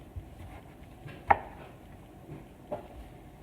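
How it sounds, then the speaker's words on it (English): A knife cutting vegetables for pico de gallo on a board, faint and sparse, with one sharper chop in the middle and a lighter one after it over quiet room tone. "I'm just going to keep slicing this up."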